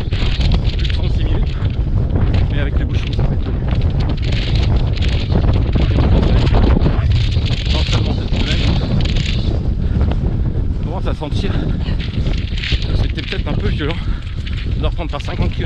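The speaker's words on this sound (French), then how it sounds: "Dans la plaine. Toujours autant de vent." Strong wind gusts across an open plain during the ChocoTrail trail running race, roaring and buffeting close against the microphone in a constant loud rush.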